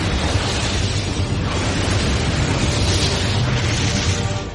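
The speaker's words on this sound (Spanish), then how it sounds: "En una remota zona de Siberia, una enorme explosión abrió el cielo." A huge, sustained roaring explosion over a remote area of Siberia, the Tunguska event, rumbles loudly and continuously, dense with deep booming noise and no voices.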